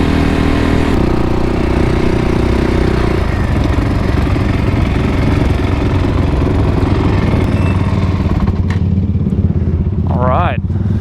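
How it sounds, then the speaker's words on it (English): An off-road vehicle's engine at the Glamis sand dunes runs loud and close in a steady, rough drone throughout, with no clearly separate backfire pops standing out. "I'm not sure why this thing is backfiring, but it's getting a little old."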